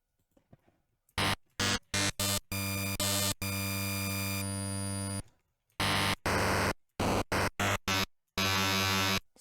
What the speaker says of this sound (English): using a duty cycle of 1 gets a metallic sound